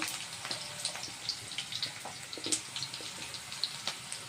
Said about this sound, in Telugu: చక్కగా వేగిపోయింది ఉల్లిపాయ